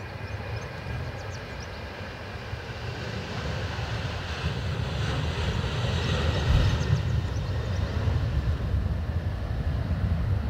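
Ryanair airliner taking off at Dublin Airport, a broad, steady jet roar that swells slightly as it goes on, heard from a distance with wind buffeting the microphone.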